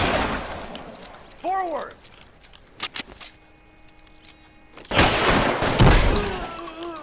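Gunfire in the 1940s detective game L.A. Noire, with sharp shots around the 3-second mark and a loud sustained burst near the end, mixed with game music and someone talking over it.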